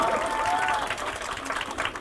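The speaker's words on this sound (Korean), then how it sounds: "네, 큰 박수 부탁드립니다." A crowd claps steadily throughout at a Democratic Party members' space opening ceremony, a dense, continuous patter of applause with some crowd noise mixed in.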